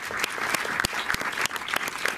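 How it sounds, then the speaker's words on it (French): An audience at the Méliès cinema in Montreuil applauds as guests join the stage, a steady patter of many hands with a few sharper individual claps standing out. "vous pouvez encore applaudir chaleureusement"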